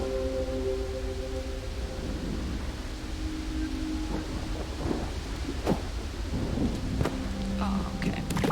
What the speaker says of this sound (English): The storm is getting closer.